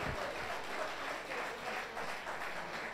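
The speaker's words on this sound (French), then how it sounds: "Acclamez pour les hommes, acclamez pour les hommes." A crowd at a church gathering applauds and cheers, a dense continuous wash of clapping held steady throughout at moderate distance.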